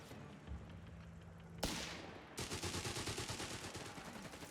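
Gunfire in the Company of Heroes 3 strategy game: a sharp single blast is followed by sustained rapid machine-gun bursts, loud and continuous, with no talk over it.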